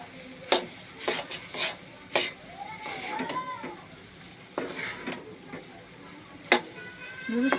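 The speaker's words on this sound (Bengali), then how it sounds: "চামচি দিয়ে কিন্তু ভালোভাবে নেড়ে নিতে হবে নাহলে কিন্তু মশলাগুলো মিক্স হবে না নুডলসের সাথে" Spoon stirring egg noodles with spices in a pan, giving repeated scraping clinks and short clatters in irregular bursts, with faint sizzling beneath and brief background noises.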